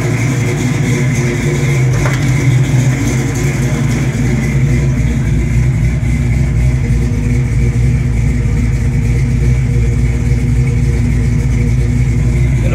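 A 1965 Ford Mustang engine idles steadily while warming up, its loud, continuous rumble unbroken and close, with a faint slight unevenness in the running and no talking.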